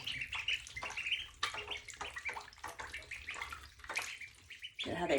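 Young birds splash and flap in water, giving repeated bursts of close, bright splashing with short pauses in between, along with faint chirps.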